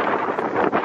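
Strong wind gusting at Daytona Beach, a steady loud roar buffeting the microphone across the whole moment with one brief dip near the end.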